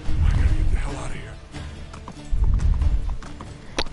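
Galloping hooves of a horse in the video game Uncharted 3 pound in a steady, heavy rhythm, loud and close, rising and falling in intensity with a few sharp knocks layered in.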